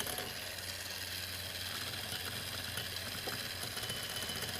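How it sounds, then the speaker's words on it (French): Small electric beater whisking homemade mayonnaise, a quiet steady mechanical whir with faint rattling texture throughout, fairly soft and with no voices. "On va prendre le petit batteur"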